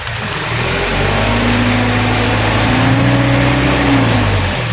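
Car engine revs up loudly close by as the clutch is worked, rising pitch holding steady then easing off, with a constant road-like hiss underneath and no talk.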